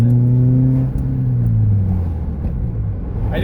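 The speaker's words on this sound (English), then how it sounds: "I do kind of like the way this car sounds." A Subaru Forester converted into a truck, with a resonator exhaust and a rusted factory muffler, drones steadily with a deep low rumble while cruising, with slight pitch shifts and no voices.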